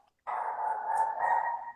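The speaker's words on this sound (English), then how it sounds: "My dog's barking at your dog." A dog gives one long, drawn-out howling bark, a sustained tonal cry that rises slightly and then fades, heard fairly close and alone.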